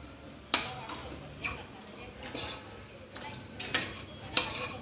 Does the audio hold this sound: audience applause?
no